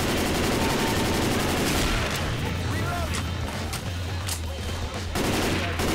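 Dense, rapid gunfire fills a Left 4 Dead 2 survival round on the Treehouse of Horror map, a loud sustained barrage with a brief lull midway before the shooting resumes.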